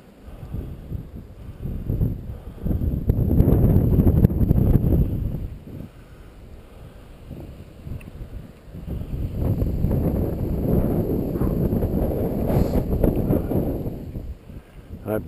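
Cold winter wind with a low wind chill blowing outdoors, gusting loudly in two long surges against the microphone with a quieter lull between.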